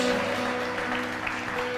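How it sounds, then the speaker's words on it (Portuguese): A church congregation applauds during worship, a dense, steady wash of clapping that lasts throughout, with sustained musical tones held underneath. "começa a aplaudir a presença do Rei da Glória"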